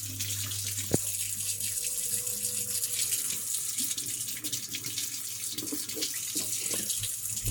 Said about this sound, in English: the hot water's coming through hot as well now